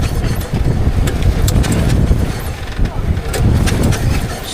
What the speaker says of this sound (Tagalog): Naayos yung makina.